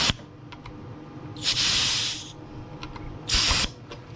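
Two short bursts of air hissing from the AC hose of a 2009 Pontiac G6 as it is purged, each a sharp spray lasting about a second, near and loud over a quiet background with small clicks.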